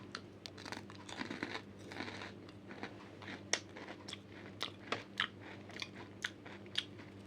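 Dry Kellogg's chocolate cereal pieces are crunched and chewed as a snack, with irregular close crunches and bites, some crinkling, and no talking.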